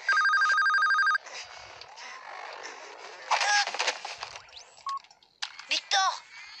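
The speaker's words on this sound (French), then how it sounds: "Non, ce bruit, c'est le téléphone." An indoor telephone bell rings loudly for about a second at the start, then stops as people talk and other small knocks and clicks follow.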